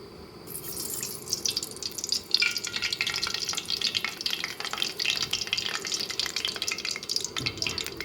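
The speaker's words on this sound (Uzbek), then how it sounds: "qizib turgan qozonga yog' solamiz" Oil poured into a hot cauldron for Uzbek macaroni plov, with carrots and onion at hand, sizzles in a loud, steady hiss that swells after a moment and carries on with faint stirring clatter.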